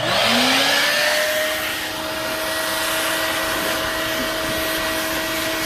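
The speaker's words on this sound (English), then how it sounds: "So I'm going to go ahead and turn the vacuum part on." An upholstery cleaning machine runs its vacuum on a fabric car seat, giving a loud, steady motor whine with a rising pitch at start-up and a constant airy roar throughout, heard close and alone.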